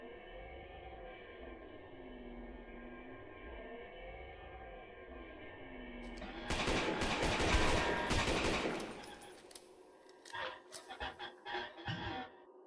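Gunfire in the horror game Lost in Vivo breaks out after a droning, warbling ambience, a loud burst of rapid shots followed by a few scattered, sharper cracks.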